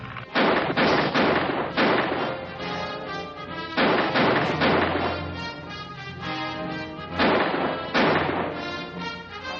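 Gunfire aimed at an aerial torpedo in a 1950 science-fiction serial: loud repeated bursts of shots in about four clusters, each decaying with a ringing tail, close and without speech.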